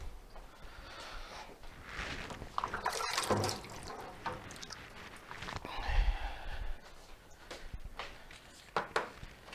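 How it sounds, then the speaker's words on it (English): Pot of beer wort for a Mr. Beer Redwood Ale boiling on a stovetop, a steady wash of bubbling and hissing with irregular pops and gurgles, close up, no voices. "I want to pull this off the heat because it has started to boil"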